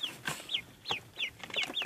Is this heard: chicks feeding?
yes